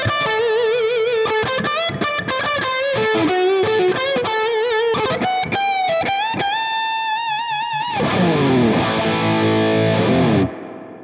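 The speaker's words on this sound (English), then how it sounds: "It's also the only amp with an integrated reverb, which is a spring one." Distorted electric guitar through an Orange amp playing bends and chords with a washy spring reverb tail, ending on a ringing chord that decays abruptly.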